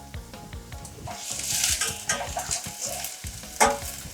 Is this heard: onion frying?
yes